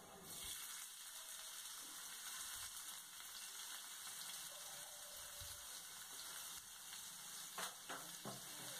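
Finely chopped medium onion frying in oil with cumin for tawa paneer, heard as a faint, steady, hissing sizzle with a few soft stirring sounds near the end, and no talk.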